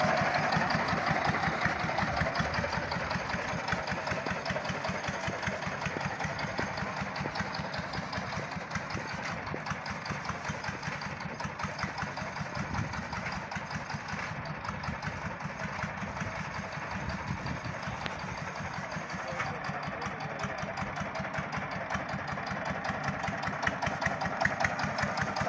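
A tractor engine idles steadily in a field, a continuous rapid chugging hum with a fine knocking pulse, close and even for the whole stretch with no talk.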